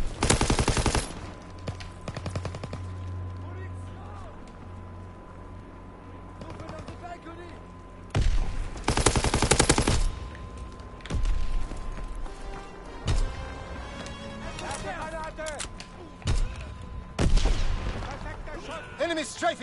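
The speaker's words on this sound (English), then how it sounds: "Enemy strafing run, inbound!" Enemy aircraft strafing gunfire in a video game comes in loud bursts of rapid machine-gun fire with booming impacts, alternating with quieter stretches of battlefield noise.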